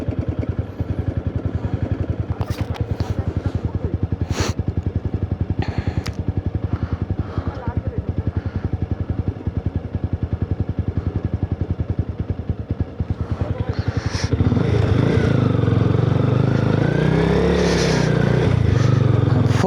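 Motorcycle engine droning steadily at close range on a night ride along a risky mountain road toward Chitkul, with clattering and wind noise; the engine grows louder and rougher in the last few seconds, and a voice talks over it.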